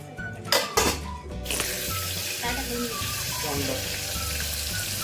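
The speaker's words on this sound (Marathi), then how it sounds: "कढीपत्ता टाकतोय आता आपण मी टाकते कढीपत्ता" Curry leaves dropped into hot oil for misal, bursting into a loud crackle that settles into steady sizzling frying, with a brief clatter at the start and a voice speaking softly over it.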